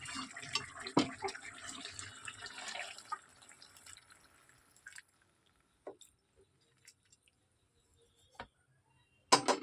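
A cooked bitter gourd dish is poured out in a soft, wet rush for a few seconds, followed by quiet scattered drips and small taps in a still kitchen.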